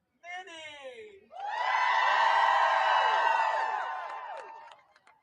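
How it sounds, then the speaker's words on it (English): A crowd at a reproductive-rights protest march roars with whoops and cheering that swells quickly, holds loud and sustained for a few seconds, then fades, preceded by a brief shout. "can we please give a big, loud round of applause to our next speaker, Minnie"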